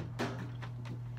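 A plastic Nerf blaster slide being cocked back: a sharp mechanical clack followed by a few lighter sliding clicks, close and fairly quiet against a steady low hum.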